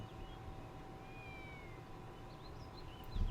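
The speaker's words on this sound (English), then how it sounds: "Cat noises, yeah." A cat meowing in the fantasy online game Mabinogi, faint high mews and short calls over a steady droning game ambience, with a soft thump near the end.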